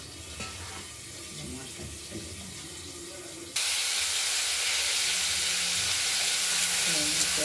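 Tomatoes and potatoes fry in a pan for a curry, a soft background hiss under brief talk that jumps to a loud, steady sizzle partway through.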